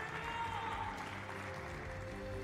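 An audience at a Tekken fighting-game tournament applauds and cheers for the teams, a steady wash of clapping and crowd noise heard at a distance and fairly faint.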